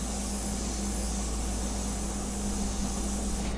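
An airbrush sprays ink in a steady, continuous hiss that holds unbroken and close for the whole stretch, with a faint low hum underneath and no talking.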